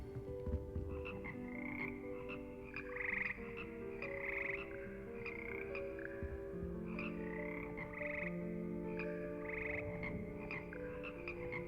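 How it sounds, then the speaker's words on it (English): Magical singing frogs of the Hogwarts frog corps in Hogwarts Legacy croak in layered, sustained multi-part harmony, a steady chorus of held pitches with rhythmic croaking accents running throughout. "Magical amphibians can sing in six-part harmony and hold a pitch better than most humans."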